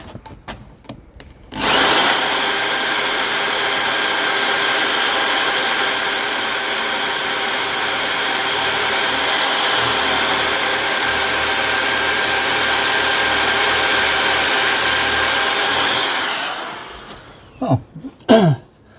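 A power drill bores into a brick wall to mount a bee hotel, a loud continuous whine lasting about fourteen seconds, followed by a few knocks and bumps as it stops.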